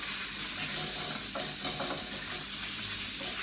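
Chicken curry being stirred in a pan on a hob, with a steady close sizzle of frying and a few scraping stirs of the spoon in the middle.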